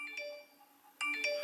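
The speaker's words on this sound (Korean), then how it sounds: "음성 메시지 있을 때 이 소리가 효과음이 이거예요." An iPhone voicemail notification chimes twice, a bright bell-like electronic tone repeated after a short pause, quiet and alone.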